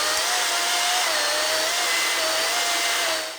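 A DeWalt DCM575N 54V cordless chainsaw with a brushless motor saws through a 360 mm tree trunk, a loud, steady, high whine that holds without pause before tailing off at the end.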